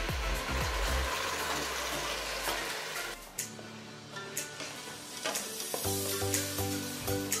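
Boiled moong dal is mashed in a pan with spinach greens for keerai kadaiyal, giving wet squelching and stirring scrapes over a soft sizzle, close and moderately loud, with intermittent clinks of a utensil against the pan.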